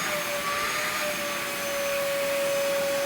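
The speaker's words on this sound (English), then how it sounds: "Here my wife is continuing to vacuum all of the furniture." Cheap vacuum cleaner running on hotel furniture upholstery, a continuous loud motor whine with a steady high tone and no pauses.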